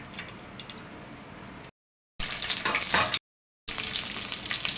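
Curry leaves crackle and sizzle in a little hot ghee in a pan, a close, bright frying hiss broken into three bursts by short silent gaps.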